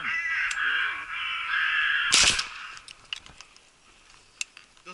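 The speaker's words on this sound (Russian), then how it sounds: "Прямо на нас! Это ворона!" A hooded crow caws during a crow hunt in open country, giving several loud, harsh calls over the first two seconds, then a sharp burst, followed by scattered clicks and faint noises.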